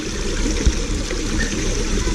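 A shallow, clear creek flows steadily with a close, continuous trickling wash and no voices over it.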